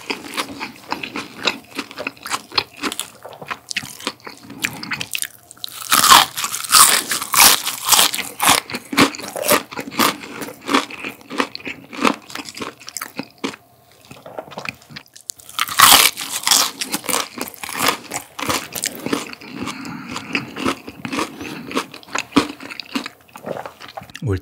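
Crunchy fried pork ribs are bitten and chewed up close in a mukbang, with loud crackling crunches repeating steadily and two louder bursts of biting, with no talking.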